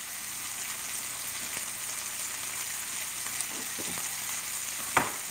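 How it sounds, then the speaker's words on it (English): Saltfish, okra and frankfurters sauté with garlic in a hot oiled pan, giving a steady, even sizzle with a few faint scrapes from stirring. "this is a quick saute"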